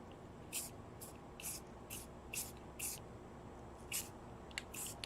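Short bursts of spray paint from an aerosol can coating a resin-fouled heat gun, about eight separate hisses in a steady rhythm, close and fairly quiet over low background hum.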